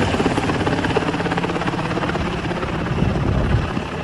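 A US-made helicopter flying a Taliban flag in Afghanistan throbs loudly and steadily overhead, its rotor chop filling the clip without a break.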